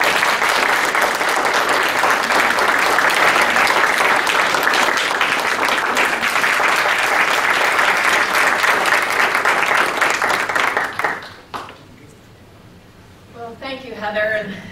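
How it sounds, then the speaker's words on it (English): A large audience breaks into loud, dense applause that holds steady for about eleven seconds before cutting off, after which a voice speaks briefly. "We should just do a round of applause."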